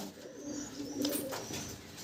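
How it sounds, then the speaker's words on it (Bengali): A big red-speckled male pigeon coos at close range in a short run of low, throaty calls, with faint rustling and chirps around it. "এবার দেখাচ্ছি একটা বিগ সাইজ লালচিরা নর পায়রা, খুবই বড় সাইজের পায়রা"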